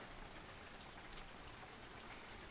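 Steady rain falls outside, a soft, even hiss of drops with no voices, faint and continuous throughout.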